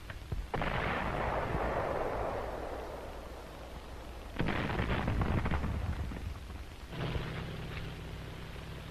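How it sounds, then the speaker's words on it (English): Artillery fire from the WWII battle of Guam, with emplaced guns firing on Marines: several heavy booming blasts, each followed by a long rumbling roll, loud and alone with no talking. "artillery weapons."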